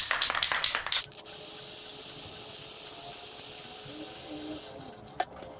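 An aerosol can sprays a fresh coat of finish onto a wooden goblet turned from a table leg. Short rattling shakes come first, then a steady close hiss for several seconds, ending with a brief tap.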